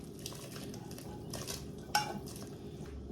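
Fried vegetables go into a pot of soup broth for a flour-dumpling soup, with soft clinks of a utensil against the pot and one sharper metallic knock in the middle, quiet and close.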